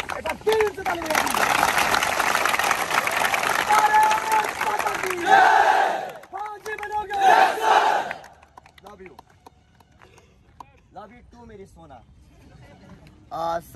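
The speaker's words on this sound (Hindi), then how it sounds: "एक बार सभी लोग एक बार दिल से ताली" A crowd at a physical training academy in Indore claps and cheers loudly in two bursts, dense clapping with shouts, then dies away while someone talks.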